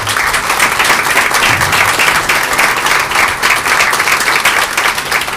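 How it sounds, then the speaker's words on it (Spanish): Sustained applause from a church congregation, many hands clapping steadily and densely at close range, lasting throughout without pause. "Vamos a darles un aplauso."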